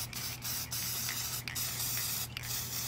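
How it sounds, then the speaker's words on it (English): A spray paint can hisses in short bursts while painting a tray in multiple colors, a few quick pauses between sprays, close and fairly loud over a low hum. "But I just go ahead and spray them all together."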